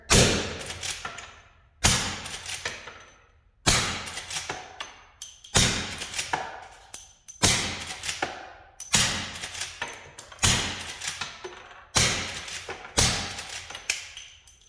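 A lever action gun fired in a regular sequence of about eight sharp, loud shots roughly two seconds apart, each with a brief ringing decay and a mechanical racking sound between shots.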